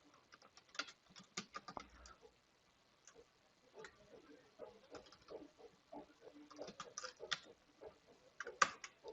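Quiet, irregular clicking of a computer keyboard as a git command is typed, soft keystrokes pattering in uneven bursts with faint room noise.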